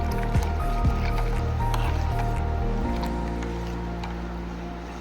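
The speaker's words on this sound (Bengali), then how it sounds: "এর মধ্যে আমি একটু ঠান্ডা জল অ্যাড করব।" Cold water pours into roasted mango pulp, a continuous close liquid splashing and gurgling that slowly fades, with a few soft squishy pulses near the start.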